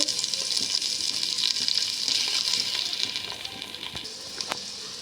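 Chopped onion and tomato frying in hot oil for a Mangalore-style dry fish tempering, a steady close sizzle and crackle with faint stirring and a brief utensil clink near the end.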